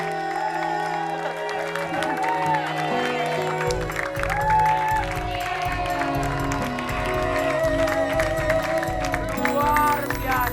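Studio audience applause and cheering for a singer on an Indonesian TV variety show, a dense crowd roar with music playing underneath throughout.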